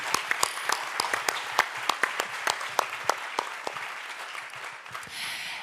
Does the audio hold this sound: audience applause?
yes